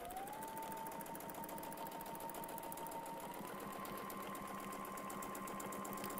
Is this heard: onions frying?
no